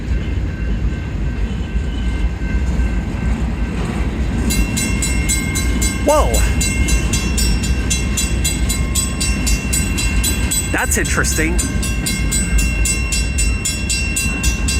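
Union Pacific manifest freight train led by locomotive 5532 rolls slowly outbound past a 1st Street crossing in Tempe, a steady rumble with rhythmic wheel clatter and a high ringing tone, while a few brief voices speak over it.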